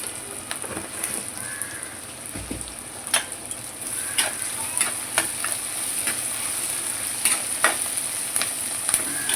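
Onions sautéing with rock salt in a pan for a fish curry, a steady close sizzle with faint stirring scrapes and small crackles running throughout.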